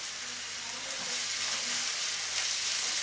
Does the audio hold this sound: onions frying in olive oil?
yes